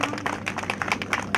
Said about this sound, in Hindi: जोरदार तालियों के साथ अभिनंदन।